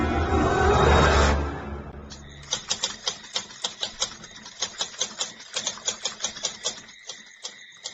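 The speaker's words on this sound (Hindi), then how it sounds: "टाइपराइटर की बटन दबने की आवाज सुनाई दे रही थी।" Keys of a white typewriter clack in a quick, uneven series of sharp strikes, close and distinct, after a burst of broad noise fades out.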